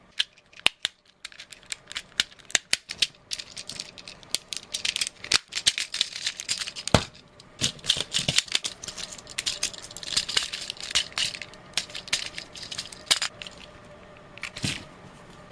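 A plastic Transformers Railspike toy figure being transformed by hand, a close series of sharp irregular clicks, snaps and rattles of plastic joints, sometimes in quick bursts and sometimes spaced apart, with no talking.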